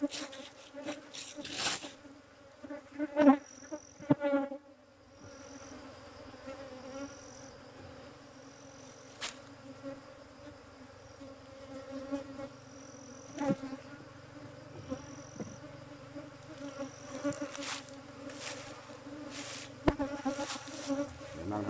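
Wild forest bees buzzing steadily around a hive during the first honey harvest of the year in Nong Khai. The drone is continuous, with occasional louder passes as single bees fly near, and a few faint knocks.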